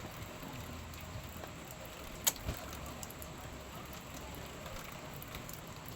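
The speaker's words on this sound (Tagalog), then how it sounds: "Umuulan na gid, guys." Soft, steady patter of light rain falls continuously, with a couple of faint drips or taps standing out briefly.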